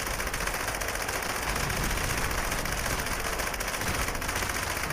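A heavy-recoil gun in Fallout 76 fires in a sustained, dense roar of rapid shots, loud and unbroken from start to finish with no pauses.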